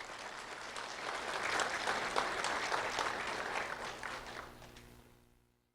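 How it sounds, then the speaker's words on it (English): Applause from an audience at a sheriff's office recognition of a second grade student, building to a steady rattle of many hands clapping, then tapering off and fading to silence near the end. "Riley Sangster, a round of applause for Riley Sangster,"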